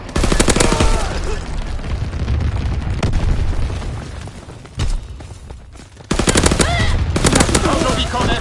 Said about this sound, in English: Enemy anti-aircraft fire.